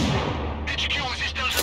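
An explosion in the video game Sniper Ghost Warrior Contracts 2 gives a heavy low rumble that breaks into several sharp cracking bursts, loud and close, with a faint voice underneath.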